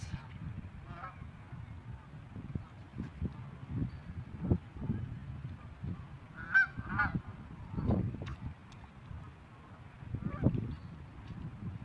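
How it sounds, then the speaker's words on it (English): Geese in a video game honk repeatedly at moderate distance, scattered calls rising over a low rumbling background with no talk. "Why are there so many geese here all of a sudden? Now this is a lot of geese."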